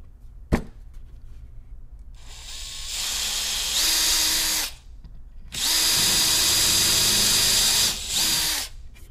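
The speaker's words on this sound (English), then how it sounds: "I'll start off, I'll do a pre-drill" A power drill pre-drills a countersunk hole in casework, sounding as a close, loud high whine in two long bursts with a brief pause between, preceded by a single sharp click.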